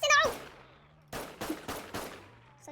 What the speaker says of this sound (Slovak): Ja počujem také strieľanie